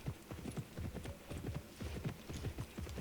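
Horse hooves beating a steady, even trotting clip-clop throughout, close and clear, in the Pippa Funnel Ranch Rescue video game, with no speech.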